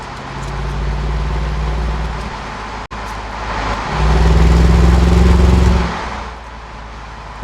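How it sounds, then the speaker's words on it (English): A 2001 Jaguar XK8 exhaust note swelling as the car accelerates on the road, a loud droning engine tone that rises, drops briefly, then climbs again strongly with road noise beneath. "trying to find a reliable way to record exhaust notes and partial road noise"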